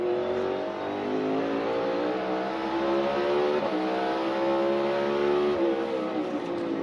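A NASCAR Cup race car laps the track during practice, its engine a steady, loud high-pitched drone that rises and falls slightly as the car works through the corners.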